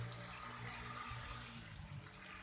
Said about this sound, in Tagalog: nilagyan po natin tubig yung tambuchoy